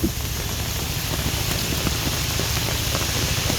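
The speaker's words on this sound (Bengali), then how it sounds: "কি পরিমাণে বৃষ্টি হচ্ছে দেখুন" Heavy rain pours down during a boat trip at sea in stormy weather, a loud, steady, close hiss of drops with no pauses and no talking.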